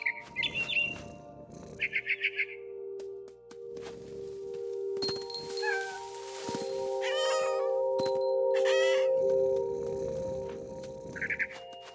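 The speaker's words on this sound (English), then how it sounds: "Then I heard chirping outside my window. It was a barn swallow going back to her nest." Barn swallow chirps in the video game What Remains of Edith Finch, bright repeated tweets and trills in short bursts over a steady low ambient drone, with cat meows mixed in.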